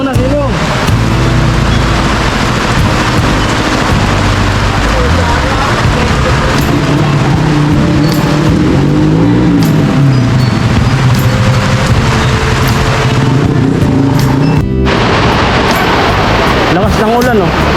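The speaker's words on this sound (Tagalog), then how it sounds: "Biglang bumuhos yung malakas na ulan." Heavy rain suddenly pouring down outdoors near a house, a loud, dense, unbroken roar of falling water close to the listener, with voices talking over it.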